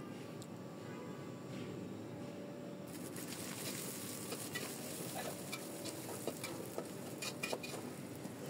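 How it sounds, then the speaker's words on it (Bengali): Vegetables frying in a pan with ginger-garlic paste, a steady close sizzle with stirring scrapes and light crackles that brighten partway through, no talk. "সব একসাথে দিয়ে ভালো মতন আমি ভেজে নেব।"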